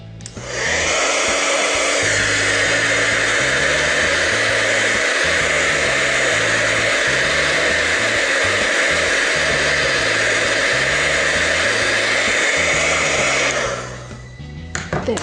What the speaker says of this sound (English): I'm just going to use the heat tool again to set the